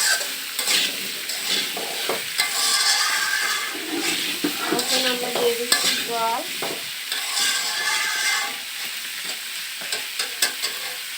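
Kohlrabi fries in a pan with turmeric and salt, with a steady sizzle under repeated scraping stirs of a utensil against the pan, close and fairly loud.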